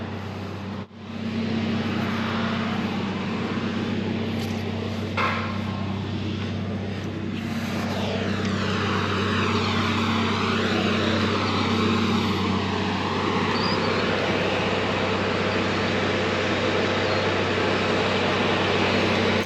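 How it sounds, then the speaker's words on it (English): A Trioliet feed mixer wagon drives away on a Canadian farm, heard as a loud continuous engine drone with a steady low hum and a shifting tone as it pulls off. "The Triolite feed mixer is off to get some breakfast for the ladies back at the barn."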